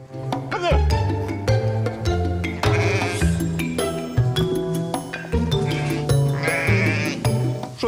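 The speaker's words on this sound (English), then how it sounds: "The sheep have much contact with wanderers, so they are tame and obedient." A flock of tame sheep on Sweden's High Coast bleating loudly and repeatedly, several animals calling over each other up close, with faint clinking in the background.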